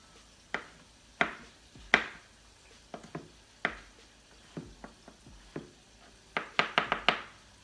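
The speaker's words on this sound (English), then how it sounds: "So I have some fresh garlic here. I'm gonna go ahead and chop that up." Fresh garlic chopped with a knife on a board, a series of close, crisp knocks in an uneven rhythm that quickens into a rapid cluster near the end, with no talking.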